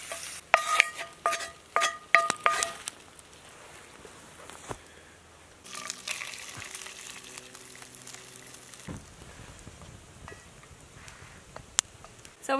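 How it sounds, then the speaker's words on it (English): Tortillas cooking in a pan over a campfire in the Alaska wilderness, with scraping and clinking at first, then a quiet, steady sizzle in the pan. "I'm gonna take it out of the pan so we can get our tortillas cooked up."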